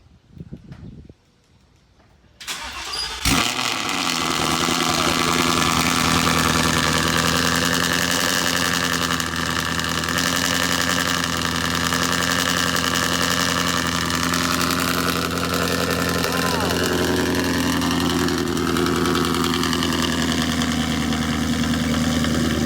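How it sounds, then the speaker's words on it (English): A 2018 Ford Mustang GT V8 with a full CORSA exhaust cranks and fires up on a cold start, then settles into a loud, deep, rumbling idle that holds steady for the rest of the clip. "This is going to be the first cold start with full CORSA exhaust headers to mufflers"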